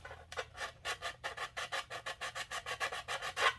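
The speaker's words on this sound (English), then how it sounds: "this really removes a lot of material fast, so be mindful of what sandpaper you use" Sandpaper worked back and forth over a model race car body, giving about fifteen evenly spaced rasping strokes in a steady rhythm, close and moderately quiet, with no talking.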